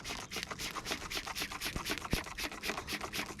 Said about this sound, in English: Gonna scrub it down really good. Get all the dirt and all the grime off.